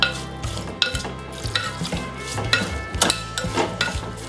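Utensil stirring raw mango curry with turmeric in a pot, Kerala style, with repeated scraping strokes and a soft sizzle, close and fairly loud, no talking.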